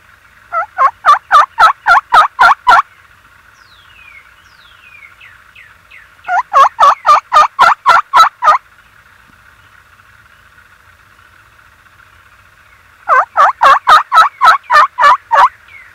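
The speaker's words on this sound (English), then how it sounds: "Did he gobble the same time?" Wild spring gobbler turkeys gobbling in three loud, close bursts, each a rapid run of about eight rattling notes, separated by quiet gaps with faint distant background.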